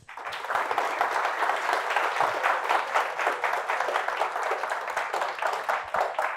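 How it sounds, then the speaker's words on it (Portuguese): A conference audience at GambiConf applauds after a talk on old computer architectures, a dense, steady wash of many hands clapping that carries on evenly for several seconds. "Uma salva de palmas."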